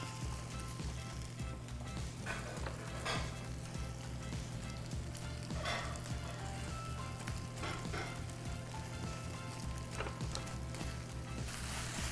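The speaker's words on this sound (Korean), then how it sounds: "한 번 더 볶고 기름 조금만 또 두르고요." Webfoot octopus and cabbage stir-frying in oil make a faint, steady sizzle with occasional soft stirring scrapes.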